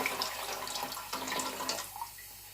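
Two litres of water poured into a pot of vegetable and oat soup with cooked carrots, a continuous soft splashing gush that stays fairly quiet throughout.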